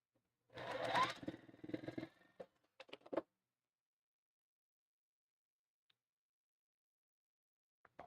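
A sewing machine stitches a quilt in a short, steady run of about a second and a half, followed by a few separate clicks and brief stitch bursts before the room goes quiet.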